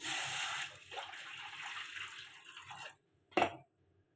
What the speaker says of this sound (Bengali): কড়াতে দিয়ে দিলাম জল